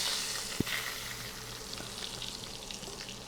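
Coated chickpea tofu fries in very hot toasted sesame oil in a pan, a steady, fairly quiet sizzle with one sharp knock near the start as it goes in.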